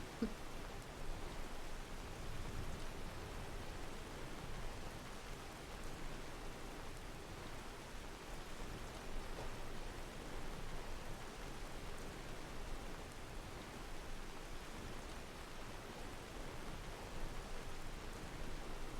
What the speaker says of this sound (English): Oh, it's now pouring rain.